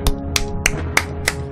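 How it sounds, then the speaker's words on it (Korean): Five sharp hand claps land at an even, quick pace, each a crisp close slap over a faint steady background. "박수 한번 치고 갑시다, 여러분들."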